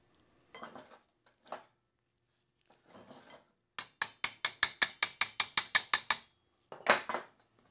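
A cheap DIY hydraulic crimping tool works on a battery cable terminal, making a few scattered clicks followed by a rapid, evenly spaced run of about a dozen sharp ratcheting clacks, then one final burst, with no voices.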